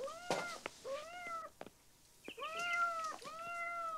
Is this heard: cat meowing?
yes